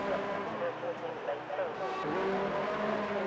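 Race car engines whine and shift pitch in an online F1 league racing game at the Canada track, a steady mechanical drone running under continuous commentary talk.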